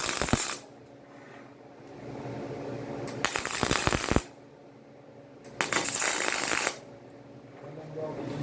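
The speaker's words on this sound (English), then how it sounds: "when welding these, I like to tack the corners" Welding arc crackling in two bursts of about a second each while tacking the corners of steel hydro assist clamps for an offroad build, set against a low room hum with quieter gaps between the tacks.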